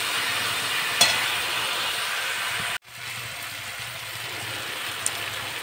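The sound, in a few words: rohu fish curry simmering in pan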